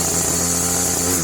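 A small two-stroke weed eater engine idles near and loud, a steady buzzing rattle with no change in pitch.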